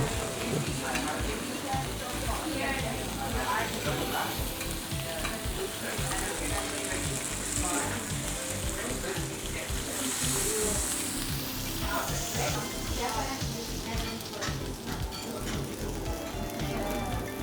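Kobe beef sizzles in butter on a hot griddle, a loud, steady crackling fry with bright spitting pops throughout, close up, with faint voices in the background.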